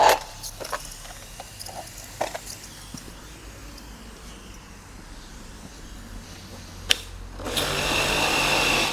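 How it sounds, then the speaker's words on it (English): A Karcher K5 pressure washer with a leaking plastic manifold pipe hums quietly and steadily with faint clicks, then a louder rushing hiss rises near the end as the trigger gun is pressed. "I'm going to switch it on to see what happens when the trigger gun is pressed"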